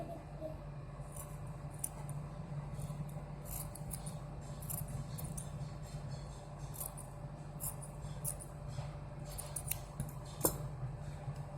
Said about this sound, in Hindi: इस तरह से दोनों साइड की ऊन को आप काट देंगे।